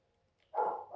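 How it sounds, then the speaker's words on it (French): A dog gives one short bark that rises abruptly midway through, fairly close and moderately loud, against a near-silent background. "Oh, ça c'est mon chien."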